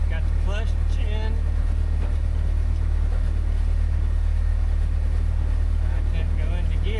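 A 12-valve engine in a Jaguar double cab off-road wrecker idles with a steady low rumble during a test drive, its drone running constantly beneath nearby voices.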